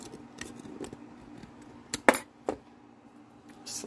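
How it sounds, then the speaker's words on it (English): Scissors snipping through material during a fitting, heard as a few sharp, close cuts clustered in the middle of an otherwise quiet stretch with faint background rustle. "I'm gonna have to cut off a little bit of this."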